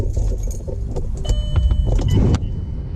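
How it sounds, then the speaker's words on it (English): An ignition key clicks and jangles as it turns in a VW Mk4 car, making a short cluster of metallic clinks and a faint electrical whir, close and fairly loud, with no talking. "now I'm going to go ahead and turn the ignition on and double check"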